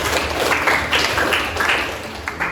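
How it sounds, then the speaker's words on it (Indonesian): A classroom group applauds, giving a dense, steady patter of many hands clapping with some rhythmic unison bursts, fairly loud and filling the room. "Tepuk tangan untuk kelompok A."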